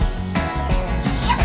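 Puppy barks and yips in a children's farm-animal counting song, a few short yapping calls over steady background music.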